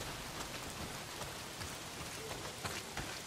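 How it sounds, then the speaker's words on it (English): Heavy rain pours in the Days Gone video game, a dense, steady hiss of drops close by with no voices over it. "Well, not if it's pissing down rain."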